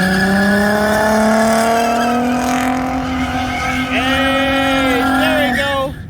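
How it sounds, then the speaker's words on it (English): A car spins a full 360 while leaving a Houston car meet, its engine revving loud and near with rising and falling pitch and squealing tires near the end, while people talk in the background. "There's that 360 spin."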